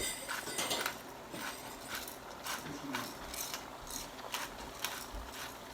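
A pepper mill grinds coarse black pepper in a quiet kitchen, producing a series of soft, rapid ratcheting crunches in short bursts, faint and close.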